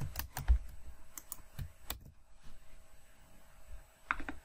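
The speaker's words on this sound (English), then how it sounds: "And type in a password." Rapid keystrokes on a computer keyboard while a password is entered, a quick run of sharp clicks at the start, then scattered taps and a short final burst, close and clear with no talking.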